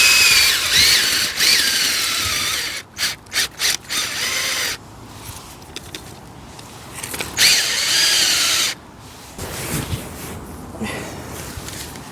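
Bulb auger powered by a drill boring into garden soil for tulip bulbs, a whining motor running in loud bursts with brief stops and restarts, then quieter stretches.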